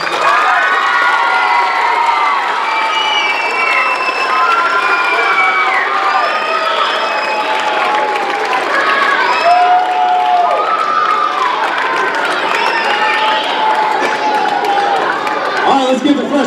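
Crowd at a freshman football awards banquet cheers, whoops and claps in a sustained burst, with high children's shouts over steady applause, loud and close throughout.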